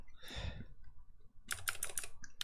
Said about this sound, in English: They are some of the clickiest switches that you can get.